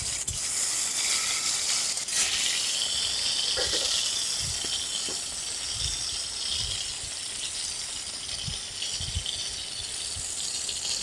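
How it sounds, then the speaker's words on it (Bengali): Chopped tomatoes are stirred in a hot cooking pan, giving a steady loud sizzle and hiss with occasional soft scrapes and knocks of the spoon against the pan. "একটু নেড়ে নেব।"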